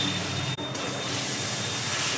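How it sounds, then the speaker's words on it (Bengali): Water splashed into a hot pan of frying chicken tadka masala sets off a loud, steady sizzling hiss that stays continuous and unbroken for a couple of seconds, with no voices over it. "মশলাটা যাতে তলায় লেগে না যায় অল্প পরিমাণ জল দিলাম এর মধ্যে আমি"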